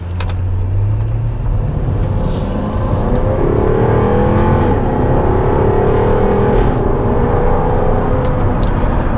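Jaguar F-Type R 5.0 V8 accelerating hard, its exhaust valves opening above about 4,500 rpm; a loud, continuous engine roar rises in pitch across several seconds, close and alone with no talking.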